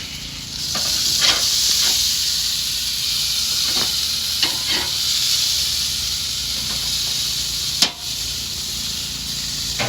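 Steady loud sizzling hiss of burgers frying on a Char-Griller grill at about 525 degrees, broken by occasional crackles and pops, with no talking.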